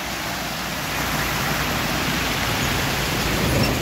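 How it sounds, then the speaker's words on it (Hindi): A rain-swollen stream in Jim Corbett Park rushes past in a dense, unbroken roar of fast-flowing water, loud and close, swelling slightly toward the end. "आज बारिश होने के कारण इतना तेज़ पानी है।"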